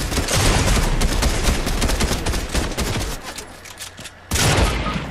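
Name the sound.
shotgun fire in a video game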